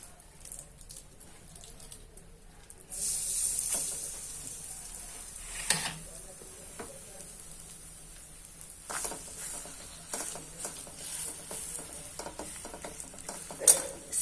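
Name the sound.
thick thalipeeth cooking in a hot kadhai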